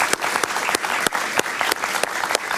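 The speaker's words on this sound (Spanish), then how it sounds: "Un aplauso para él, por favor" A television studio audience applauds loudly and continuously, a dense wash of clapping with sharper individual claps poking through at regular intervals.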